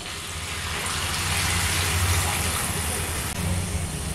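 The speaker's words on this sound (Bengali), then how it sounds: "এখন এর মধ্যে দিয়ে দিচ্ছি পরিমাণ মতন জল" Water poured steadily into a pan of ridge gourd curry, a continuous broadband gushing and splashing that swells slightly midway and carries on without break, close and fairly loud with no talk.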